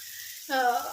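Bitter gourd and pumpkin frying in a pan, a short soft sizzle that swells suddenly midway, close and quiet with no talk.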